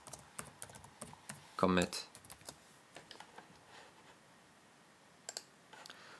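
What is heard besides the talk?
typing code on a computer keyboard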